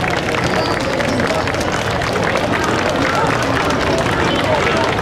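A crowd at a street festival bodybuilding show in Sapporo claps and murmurs for the contestants, a dense, steady wash of applause and babble, loud and close throughout.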